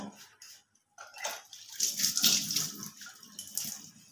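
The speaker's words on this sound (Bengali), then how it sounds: "সামান্য একটু জল দিয়ে মিক্সির বাটিটা ধুয়ে নেব।" A little water swished and poured in a mixer grinder jar while it is rinsed in a kitchen, given as short uneven splashes and trickles after a brief quiet start, close by, with no speech.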